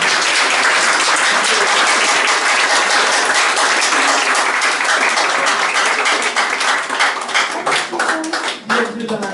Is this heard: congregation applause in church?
yes